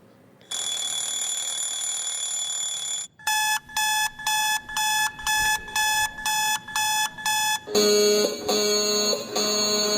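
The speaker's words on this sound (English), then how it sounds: "First you hear the traditional alarm clock" A traditional alarm clock rings loudly as a continuous tone. Bursts of rapid, evenly spaced beeping come next, then a denser, harsher electronic alarm. All of it is close and steady with no voices.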